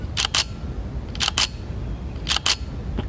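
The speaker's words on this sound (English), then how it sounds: "listen to how long the shutter stays open" Three pairs of camera shutter clicks at a slow shutter speed of about 1/10 second, each a sharp open and close separated by a brief gap, spaced about a second apart in a quiet room.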